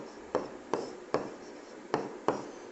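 Chalk or marker strokes on a board during a maths lesson, five short scratchy taps in an even rhythm, close and fairly soft.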